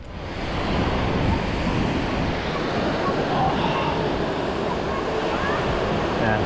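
Mediterranean Sea waves roll onto the coast as a loud, steady wash of surf, joined by rushing wind buffeting the microphone, with no pauses across the stretch.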